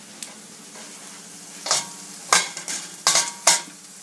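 Dough dropped into a pot of boiling hot water while making carrot sauce, giving a few short splashy sizzling bursts against a low steady bubbling hum, close by.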